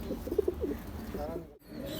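A king-size male and female pair of Rampuri pigeons coos in soft, low, close bursts over the first second, while someone talks steadily alongside and over the birds.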